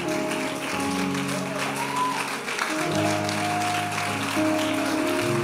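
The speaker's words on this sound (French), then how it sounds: "Continuons d'acclamer." A church congregation claps and cheers in praise of the Lord, a steady wash of applause and voices that holds throughout, with sustained musical tones running underneath.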